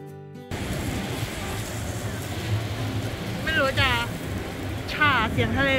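Sea waves at Koh Samed, Thailand, make a continuous broadband wash mixed with wind buffeting. Voices briefly rise over it twice in the later part.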